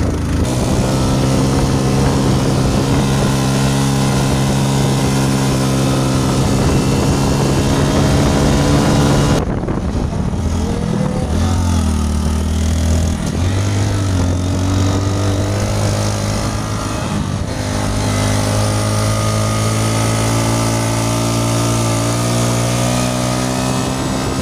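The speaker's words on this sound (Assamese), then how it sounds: "বাইকৰ চাউণ্ড শুনছে গাইছ, মানে চাউণ্ডে বেলেগ হৈ গৈছে" A motorbike engine drones loud and steady while riding on a road near Nongstoin in Meghalaya, its pitch dropping and shifting partway through as the bike changes speed.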